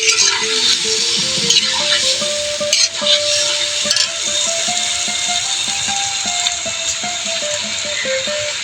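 Jackfruit is stir-fried in a pan as a beef substitute in a Bengali village-style dish, with a steady sizzle and repeated clatters of stirring over a faint melodic background tune.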